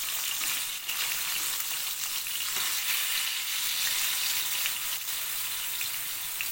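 Eggplant slices fry in oil in a pan as they are turned over, giving a steady dense sizzle, close and continuous, with faint clinks.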